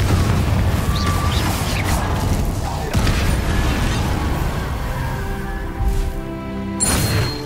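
Fiery Confringo spell blasts in the Hogwarts Legacy video game, a dense booming burst with crackling debris layered over continuous game music and effects, loud and sustained with a fresh impact near the end.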